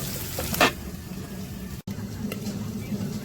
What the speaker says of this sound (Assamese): এতিয়া মাংসখিনি দি কিনে আকৌ ফ্ৰাই কৰি ল'ম ধুনীয়াকৈ